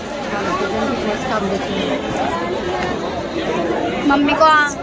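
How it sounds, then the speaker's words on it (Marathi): Dense crowd chatter fills a busy Dadar market, a steady babble of many voices close around with no single speaker standing out, swelling slightly near the end. "किती गर्दी आहे बघा।"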